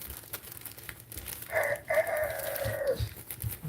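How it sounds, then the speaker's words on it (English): A rooster crows once at mid-distance, a drawn-out, strident call lasting about a second and a half over a low background murmur. "Y'all hear the rooster?"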